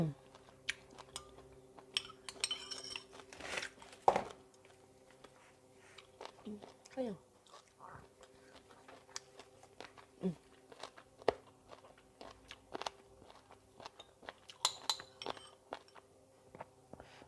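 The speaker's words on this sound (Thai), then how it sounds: "ชิมหมูหน่อย หมูมันจะเหนียวเหนียวนิดนึง" Someone chews slightly tough pork from a home-cooked Thai bamboo shoot curry made with canned bamboo shoots and okra, with soft intermittent bites and crunches, occasional light clinks of cutlery, and quiet murmurs between mouthfuls.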